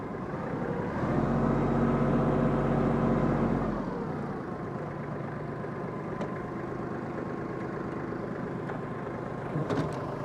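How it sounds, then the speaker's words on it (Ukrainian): A Kubota KL250 compact tractor engine runs steadily at close range as it turns in place, its pitch dropping as it revs down, then idles on with a faint clank near the end. "трактор крутиться навколо своєї осі, що є дуже зручно на ділянках з обмежених простором"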